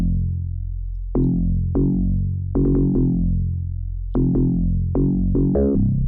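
Synthesized 808 bass notes from the Monotone synth in Reason 10.4, with FM and a gritty, noisy attack, played in a short syncopated pattern, each hit decaying with a downward pitch sweep.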